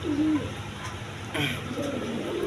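Pigeons cooing at a breeding setup where birds are kept with eggs and chicks, several low soft coos rising over a steady background hum, fairly close, with no talking.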